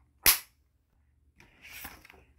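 A single sharp hand clap rings out close and loud near the start, followed by soft indistinct voice-like murmuring.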